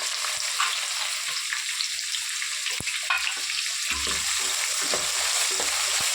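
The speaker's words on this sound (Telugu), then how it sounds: "మూడు ఉల్లిపాయలు వేసుకున్నాను నేను" Three onions frying in a pan for a bottle gourd chutney give off a steady, close, loud sizzle, with a few soft knocks and scrapes from stirring.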